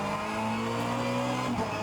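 Race car engine in rFactor 2 on the fantasy Maastricht street circuit, a loud steady droning whine held near constant, briefly shifting pitch near the end, with no talking.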